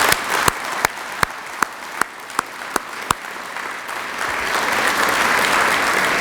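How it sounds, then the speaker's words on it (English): An audience gives a round of applause for teachers at the 2014 Crystal Apple awards, starting with a few sharp isolated claps that swell into full, sustained clapping. "I'd like to just have a round of applause for that before Bruce comes up"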